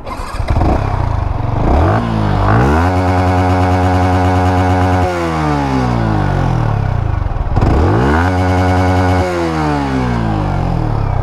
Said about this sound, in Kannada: ಇನ್ನು ಇಂಜಿನ್ ಸೌಂಡ್ ಯಾವ ಥರ ಇದೆ ತೋರಿಸ್ಬಿಡ್ತೀನಿ